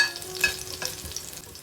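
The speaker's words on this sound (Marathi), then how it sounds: "लसूण चांगला परतून झालेला आहे" Garlic crackles and sizzles in hot oil in a pan, a brief continuous frying hiss with a few light stirring clicks, no speech.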